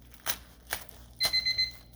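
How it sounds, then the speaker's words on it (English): A kitchen timer for sourdough beeps in a quick run of four short high chirps, preceded by a few crinkly crunching sounds from handling bread nearby. "Whoops, my timer."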